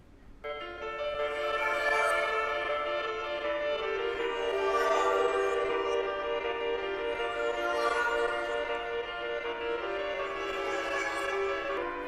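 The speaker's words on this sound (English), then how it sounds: "it stretches the time of the beat, so it's kind of like halftime" A beat slowed to halftime with a time-stretching plugin, sustained harmonic tones and swelling phrases, continuous and fairly full, no voices.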